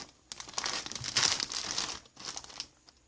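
Plastic zipper bags holding craft supplies are handled up close, producing bursts of crisp crinkling and rustling with brief pauses between them.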